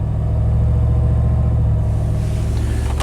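A 1991 Chevy K1500 pickup engine idles steadily with a deep, low rumble that holds throughout, its tone shifting slightly partway as the revs waver.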